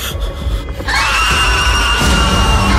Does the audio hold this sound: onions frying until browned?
no